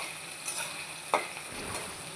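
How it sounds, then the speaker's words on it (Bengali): Chopped onions fry in a pan with a faint steady sizzle and a light stir or scrape, quiet and close. "পেঁয়াজটা এবার লাল লাল করে একটু ভেজে নিই।"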